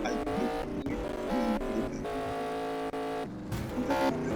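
A car drives in the Roblox Mad City video game, its engine revving and shifting through gears in loud, changing bursts with brief drops, no talk.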